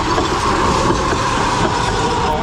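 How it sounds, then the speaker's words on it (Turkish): A tram rolls past on a street in Kharkiv, Ukraine, loud and close, with a steady rumble of wheels on rails and a squealing tone throughout. "Şöyle tramvay mı, tren mi? O ilginç bir şey geliyor."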